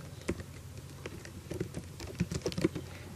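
Quick, irregular keystrokes on a computer keyboard as a terminal command is typed, a cluster of clicks and taps up close with brief pauses, no talking.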